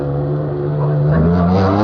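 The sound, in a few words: rally car driving through a water splash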